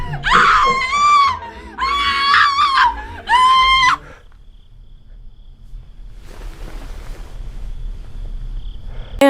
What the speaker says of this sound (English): what happens next after this blood-curdling scream